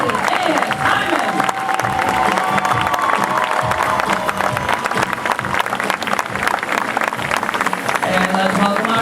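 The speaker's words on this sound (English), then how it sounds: "She deserves that extra round of applause." Loud, dense applause and cheering from a crowd at a national show ski tournament fill the scene without pause, with scattered shouts rising above the clapping throughout.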